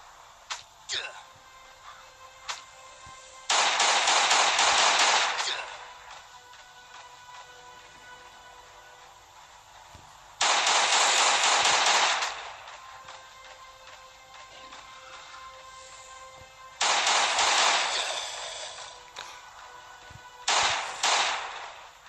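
Gunfire in the zombie survival game Last Day On Earth comes as three or four loud, sustained bursts of rapid shots lasting a couple of seconds each, separated by quieter stretches with faint clicks and ambient game sound.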